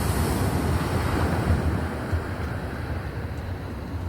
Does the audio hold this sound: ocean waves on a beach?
yes